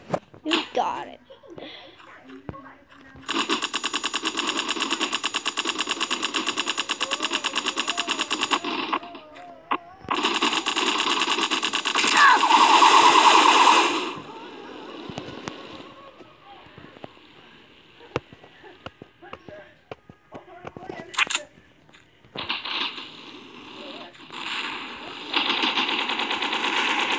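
AK rifle fire in the Mini Militia mobile game comes as loud rapid automatic bursts across several seconds, then sparser shots, with a person talking over the game sounds.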